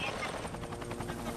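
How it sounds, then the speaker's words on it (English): Helicopter rotor in the video game Spec Ops: The Line, a steady rhythmic chop at loud level with some gunfire-like noise mixed in, lasting briefly. "Starts off with a helicopter"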